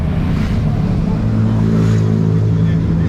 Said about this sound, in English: where you can see the cars going past, that's where the actual racing is going to happen